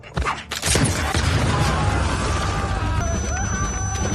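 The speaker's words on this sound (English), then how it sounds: "And with an explosion, Tom's war with the royal family truly began" A battle explosion bursts out loudly near the start, then a dense rumbling roar of blasts and debris carries on without a break.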